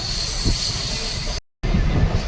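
A train rumbles along steadily in the rain with a loud, continuous roar and rattle, heard from on board on the way to Igatpuri, with a brief cut in the middle.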